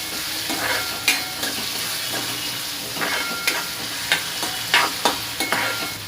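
Chopped onion sautéing in hot oil seasoned with a pinch of asafoetida, a steady close sizzle with intermittent scraping stirs of a spoon against the pan.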